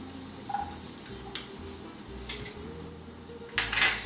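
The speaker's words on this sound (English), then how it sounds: "Swirl the pan so that the butter starts melting" A pan of oil and melting butter being swirled on the stove, with a few light metallic clinks and scrapes of the pan over a faint background hum.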